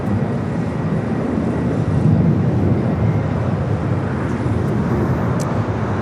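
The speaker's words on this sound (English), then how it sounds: "Also have a China Airlines Cargo 777 freighter." A China Airlines Cargo Boeing 777 freighter takes off at LAX, a steady broadband jet roar that holds loud and even across the whole stretch with no voices.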